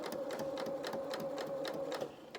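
A sewing machine stitches along a trouser inseam, a quick steady run of needle clatter that stays close and moderately quiet throughout.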